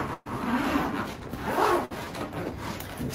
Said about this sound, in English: Let's unzip the case